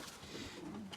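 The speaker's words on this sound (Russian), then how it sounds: "Красивые, сильные голуби" Pigeons coo softly in a brief, faint murmur outdoors, with no speech.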